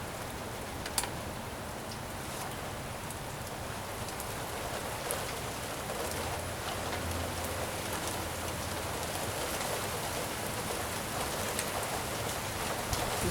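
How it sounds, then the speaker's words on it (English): Rain falling during a thunderstorm, a steady dense patter on surfaces lasting throughout, with occasional sharper drops and no speech. "Thought this was gonna be heavy rain."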